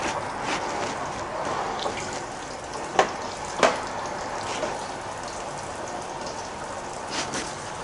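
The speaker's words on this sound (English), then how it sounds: "A lot of water beating on it." Water sprays and patters onto cheap hiking pants fabric in a steady hiss, with a couple of sharper splatters standing out partway through.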